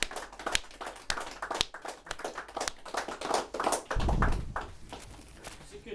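A round of applause for Clint at a men's mental health and depression awareness night, scattered claps from a small gathering that thicken briefly into a fuller burst midway, then thin out again.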